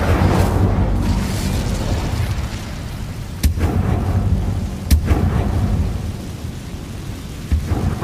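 Incendio fire spell cast in Hogwarts Legacy, heavy rumbling whooshes with sharp cracking bursts near 3.5 and 5 seconds, loud and unvoiced.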